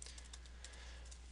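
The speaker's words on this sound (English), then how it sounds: "sorry, guys, I'm failing at typing right now." Keys clattering on a computer keyboard in a short burst of quick, irregular taps, faint and close, over a low steady hum.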